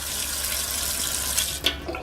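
Water runs from a tap in a steady, close rush of noise lasting the whole moment, with a slight splash toward the end and no talking.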